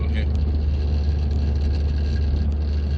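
A 1991 Montego Estate 2.0 Countryman pulls along at about 30 mph in fourth gear, giving a steady low engine drone with some vibration heard from inside the cabin, with faint talk over it.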